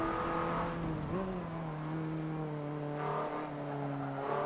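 Simulated car engine in a racing video game, played on a Logitech G920 wheel, holding a steady hum with a brief rev near the one-second mark before settling into an even drone; loud and alone, with no talking.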